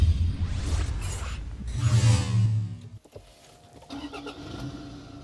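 A Toyota Land Cruiser Prado with the 2.8 D-4D diesel engine, a deep, loud rumbling drone that surges and then drops away to a quieter, smoother idle with faint mechanical clatter.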